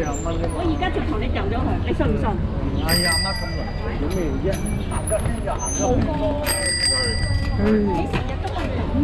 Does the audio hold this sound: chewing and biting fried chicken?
no